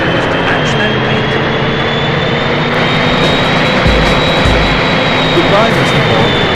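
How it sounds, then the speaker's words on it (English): Jet engine wash from a plane in the 007 Racing video game, a loud steady roaring rush with a high thin whine, continuous and close throughout. "stay clear of the plane's jet wash"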